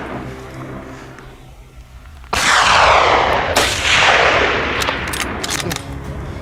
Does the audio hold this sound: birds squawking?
no